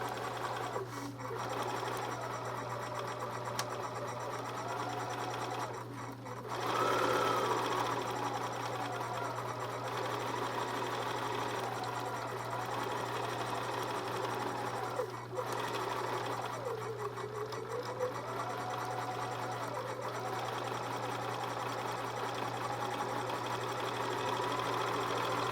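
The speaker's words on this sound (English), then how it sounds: "So you're going to go ahead, sew down them." A sewing machine stitches quilt block pieces in a long, steady whirring run with a constant low hum, briefly pausing and restarting, and faint background voices.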